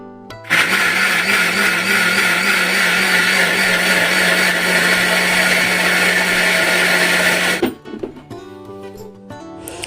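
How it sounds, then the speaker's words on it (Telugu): A mixer grinder whirs loudly and steadily while blending rice and curd into a smooth paste, running for about seven seconds before cutting off abruptly, followed by a few faint clicks and rattles. "ఇప్పుడు ఈ రెండింటిని కూడా మెత్తని పేస్ట్ లాగా మిక్సీ పట్టేసుకోవాలి."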